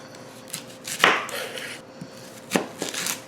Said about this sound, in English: What we're going to do is slice up a red onion.